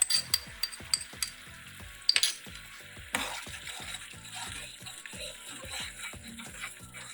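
Beef achar gosht fries with whole spices, chilli, turmeric and salt, a quiet steady sizzle broken by repeated spoon scrapes and clinks against the pot, a few sharper at the start.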